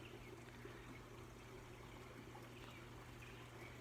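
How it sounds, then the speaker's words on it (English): A water fountain set in a pot shaped like a bear on a suburban Calgary garden deck trickles softly and continuously in the background, a faint steady splashing with no talk over it. "There's the fountain that you're probably hearing in the background there."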